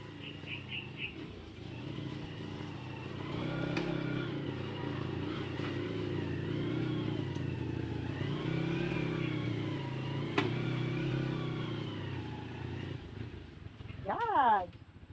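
A motorcycle rumbles at a steady idle and revs, growing slightly louder mid-way, with voices nearby and a brief bird chirp near the end.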